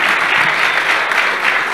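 An audience applauds at an innovation summit talk on the social impact of energy, dense and loud clapping that continues steadily throughout.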